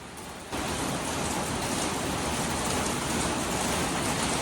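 Rain starts to fall suddenly. Quiet gives way to a dense, even hiss of drops hitting surfaces, which then holds loud and steady to the end.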